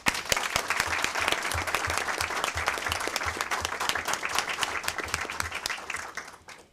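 A room at a state board of education meeting fills with applause, many hands clapping briskly and evenly for several seconds before fading out at the end.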